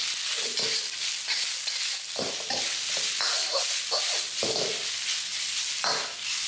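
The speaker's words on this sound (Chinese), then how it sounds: "猪肉蒜米炒香后下包菜，接着炒。" Pork with garlic and cabbage stir-fried in a wok over high heat: continuous loud sizzling with repeated scraping strokes of a spatula at an uneven rhythm, up close with no talking.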